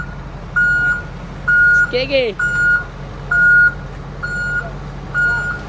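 A truck backing up gives off a string of evenly spaced electronic reversing beeps, loud and close, with a voice calling out guidance partway through.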